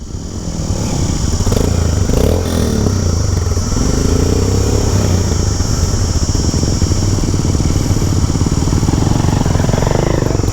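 Motorcycles at a rally training session start up and idle, a loud, steady engine drone with rapid chugging and occasional revving, close by and continuous with no talking.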